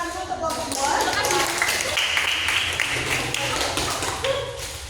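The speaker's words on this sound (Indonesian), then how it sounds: "Sekarang boleh beri tepuk tangan dulu ke kelompok 2." Classroom applause from students for a presenting group, steady dense clapping lasting several seconds at moderate distance, with some voices mixed in.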